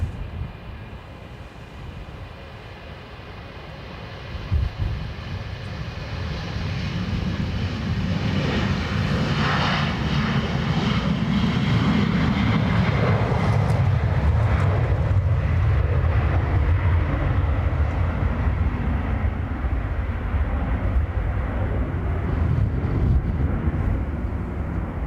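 A Ryanair airliner takes off from runway 10 right at Dublin Airport on a windy day, its engines building from a low rumble into a loud, sustained roar that holds steady close by.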